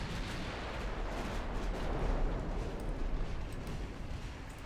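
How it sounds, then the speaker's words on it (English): Warship main guns firing high explosive shells in the naval battle game Ultimate Admiral Dreadnoughts, a dense, continuous rumble of overlapping booming salvos that stays loud throughout with no talking. "All guns. High explosive shells."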